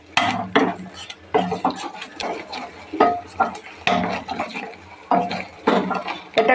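Spices for a rohu fish curry are stirred and sautéed in a pan, with repeated close scraping and clinking strokes over a soft sizzle.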